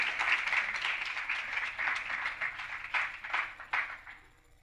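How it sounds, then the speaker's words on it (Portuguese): Audience applauding a lecture speaker at a talk on the role of the capital markets regulator, a dense, steady wash of many hands clapping that thins and fades out toward the end, with no talk over it. "peço a todos uma grande salva de palmas para o nosso professor Marcelo Barbosa"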